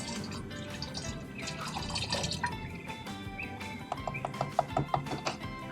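Liquid fungicide is poured from a container into a garden sprayer on a lawn, giving a steady trickle with scattered drips and splashes near the mic, with no talk over it.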